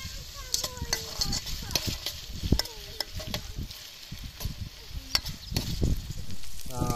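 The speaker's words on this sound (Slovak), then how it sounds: "Trošku si ju osmažíme." Onion fries in a pan for sausage risotto cooked in a camper van, a steady close sizzle broken by clicks and scrapes of stirring.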